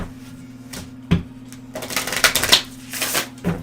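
Oracle cards being shuffled by hand in a few quick riffling bursts, close and crisp, with a steady low hum beneath and no talking.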